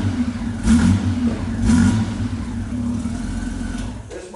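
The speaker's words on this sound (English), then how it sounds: "Listen to the engine on this thing" A 1998 Honda Goldwing GL1500SE motorcycle with a Champion Daytona 2+2 sidecar revs its engine close by, throttle blips swelling twice over a steady deep rumble before it settles back toward idle.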